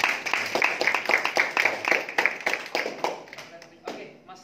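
A training audience breaks into applause, a dense rhythmic burst of many hands clapping that continues steadily and then thins out and fades toward the end.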